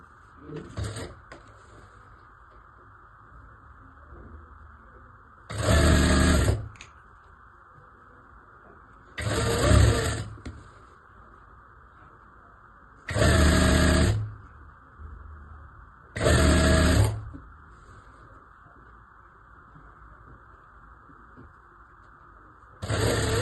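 Sewing machine stitching a folded half-inch hem on a baby frock, in four short, loud bursts of about a second each, spaced several seconds apart over a constant background hum.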